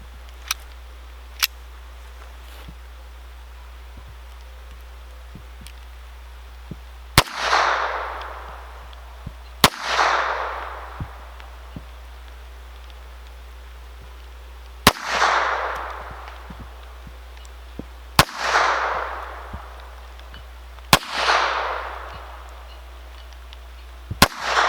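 Six sharp shots ring out from a Raven 25 pistol fired at golf balls from about five yards, each a loud crack with a short outdoor echo, spaced unevenly several seconds apart.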